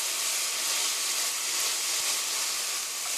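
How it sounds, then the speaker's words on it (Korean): Pork stir-frying in a hot pan for kimchi pork, a dense, loud, continuous hissing sizzle that stays even throughout, close up with no voices. "고기가 노릇노릇하게 될 때까지 볶아주세요"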